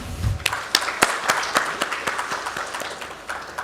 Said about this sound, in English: Allow me to now welcome with a big round of applause